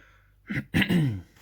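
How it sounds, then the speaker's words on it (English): A short throat-clearing cough, two quick rough bursts close to the microphone, with quiet background before them. "Excuse me for the cough."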